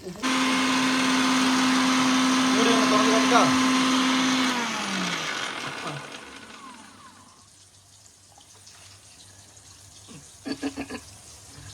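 A mixer grinder running on fish puttu mixture, a loud steady whine for several seconds that winds down and stops, followed by quieter handling noise and a short burst of clatter.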